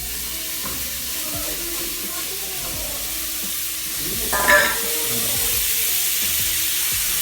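Ground beef fries in a very hot pan with olive oil, sizzling steadily and hissing loudly while being stirred, with a brief louder flare of crackle midway and no talking.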